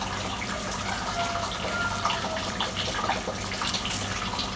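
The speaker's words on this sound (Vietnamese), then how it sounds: "Thử cái vòi sen" Water sprays steadily from a shower head onto a bonsai, making a continuous, even hiss of droplets at moderate loudness with no pauses.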